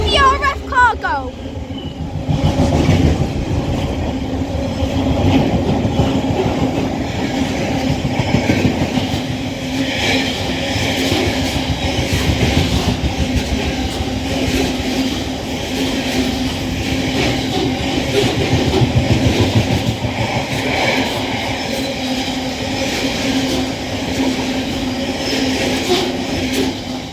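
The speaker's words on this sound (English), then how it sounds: "The Freight Class 66 heading down south." A DB Cargo Class 66 diesel freight train rumbles through a station at Acton Bridge on the West Coast Main Line, a loud, steady roar of engine and rolling wagons that fills the whole stretch, with a voice talking over it.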